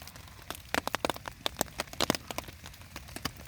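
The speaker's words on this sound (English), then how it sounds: "it's been on and off rain all morning" Scattered raindrops tap and patter irregularly on a nearby surface, sharp individual drips over a quiet outdoor background.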